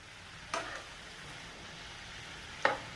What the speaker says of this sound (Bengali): এবার আমি লবণ দিয়ে দিলাম, একটু হলুদ দিয়ে দিলাম, দিয়ে আমি এবার নাড়াচাড়া।